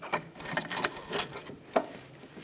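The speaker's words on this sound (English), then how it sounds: "I'm going to pry off the top part of the caliper." A pry bar scrapes and clicks against a front brake caliper on a 2005–2010 Chrysler 300, giving a few faint, uneven metallic rubs and one sharper knock.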